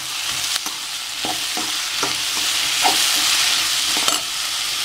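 Dried red chillies frying in a pan with oil for a tomato chutney: a steady close hiss and sizzle with several sharp spatula scrapes and stirring taps spread throughout, no voices.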